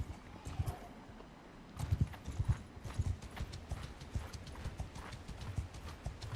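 Horse hooves clip-clop in Bannerlord, a quick, uneven run of soft thuds that continues steadily throughout at a moderate distance, with no talk over it.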